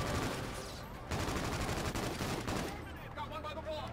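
Dense, rapid gunfire from Call of Duty Infinite Warfare crackles in continuous bursts, loud and close, easing off near the end as other game effects come through.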